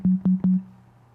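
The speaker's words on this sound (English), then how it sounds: "So we've got a sine wave" Sine wave oscillator on a vintage-style software synth, three short pure steady tones at one pitch in quick succession, the last held slightly longer and fading out.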